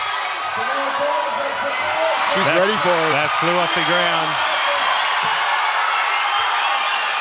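A full-house crowd cheering loudly at Australia's Strongest Man and Woman event, a dense, sustained roar throughout while a commentator talks over it.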